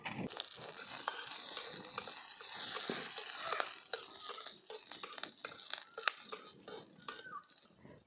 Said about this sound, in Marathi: सगळ्यात अगोदर शेंगदाणे मिरची भाजून घेऊ